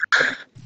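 A single sharp sneeze bursts out close and loud, cut short after a quick intake, followed by a faint low murmur of voices in a quiet room.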